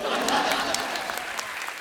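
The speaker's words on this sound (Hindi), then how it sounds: "पलक मुचल जी के लिए जोरदार ताली।" A studio audience at a comedy show gives a brief burst of hearty applause, with dense clapping throughout.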